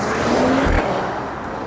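A 2025 Mercedes-AMG CLE 53 Cabriolet engine hums at steady, moderately loud volume, with a short low thump partway through and a faint rising tone, no voices present.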